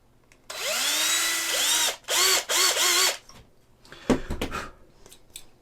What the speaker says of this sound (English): Now I can easily drill this ahead of time.